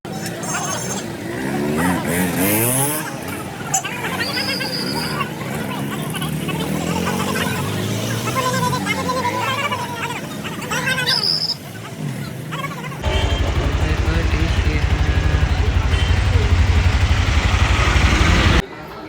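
Auto-rickshaws pull in and sit idling at a rickshaw drivers' association gathering for a goddess offering. Crowd chatter and shouting run throughout, and a low, steady engine drone swells up loudly in the final seconds.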